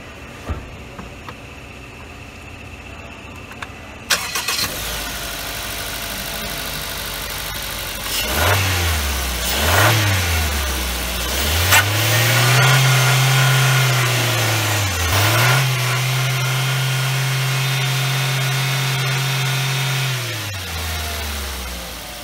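A 2018 Maruti Suzuki Ciaz's 92 hp VVT petrol engine catches and settles into a smooth idle, then revs up several times in loud, close swells before easing back to a steady hum.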